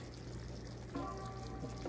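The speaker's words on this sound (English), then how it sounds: "Now I'm gonna add the onions and the garlic" Sautéed onions and garlic with their juices are tipped into a bubbling pan of creamy garlic scallop sauce, giving a steady pouring, liquid wash that runs nearly two seconds without any talk.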